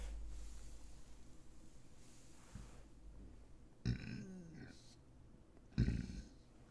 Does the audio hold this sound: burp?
yes